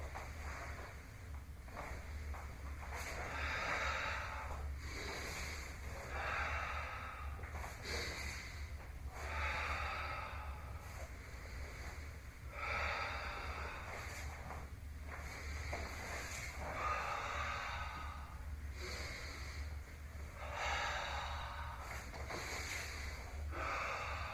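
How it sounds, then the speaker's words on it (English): Loud, rhythmic breathing during a martial arts kata in an internal energy form, with long drawn inhales and exhales repeating in steady cycles over a low constant hum, close and with no talking. "So I'll try to do this now with loud breathing so you can hear it"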